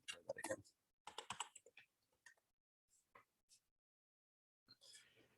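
Keys tapped on a computer keyboard to enter a PIN for a PIV smart-card login, with several short bursts of quiet clicks separated by pauses.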